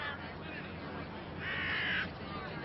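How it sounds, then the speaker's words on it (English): A crow gives one raspy caw amid a crowd of other birds, rising over steady, dense outdoor background noise at moderate distance. "First, help me catch some of those crows."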